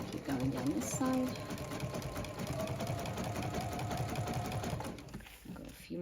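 Sewing machine stitching satin binding onto a stretch fleece blanket, running in a steady, fast, close mechanical whir for several seconds before stopping, while someone talks over it.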